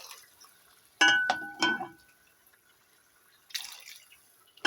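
Meat broth is poured into a pot for Iraqi maqluba with meat and red rice: two short splashy bursts of liquid close by, then quiet, then another brief pour, with no talking.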